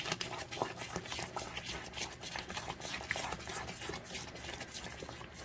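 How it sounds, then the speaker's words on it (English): A spoon stirs steadily in a pot of beef broth, with continuous soft scraping and sloshing at close range and no talking. "Get that stirred in."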